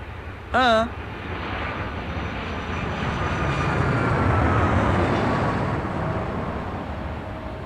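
An airplane passes overhead: its engine roar swells gradually to a broad peak and then holds at a loud, sustained level. A brief tonal voice-like sound comes near the start.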